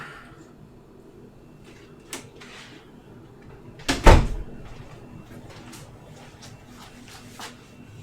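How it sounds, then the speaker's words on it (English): A bedroom door is pushed shut with one loud, close thud near the middle, surrounded by light shuffling and small handling knocks. "Close the bedroom door."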